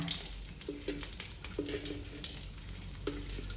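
A Thai-style omelette frying in oil, a soft steady sizzle with occasional faint clinks and pops, fairly quiet and close, with no talking.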